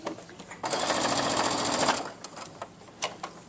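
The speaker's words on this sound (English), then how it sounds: "I'm just going to start sewing and go all the way around a straight stitch" A sewing machine runs a straight stitch around a highchair seatbelt, a close, steady mechanical whir for over a second, followed by softer handling clicks and taps as the machine stops.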